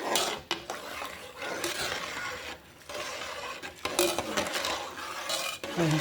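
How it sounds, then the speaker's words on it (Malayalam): Scraping and stirring rice in a metal pot, with utensil clinks and brief pauses between strokes; no one talks. "ഒന്ന് ഇളക്കിയിട്ട് മൂടി വെക്കാം"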